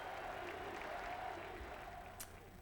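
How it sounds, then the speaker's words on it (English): Hockey arena crowd at the 1998 NHL Finals, Detroit Red Wings vs Dallas Stars, applauding and cheering on their feet, a steady dense wash of clapping and voices throughout, fairly distant and moderate in level. "Crowd on their feet. Players from both teams cheering"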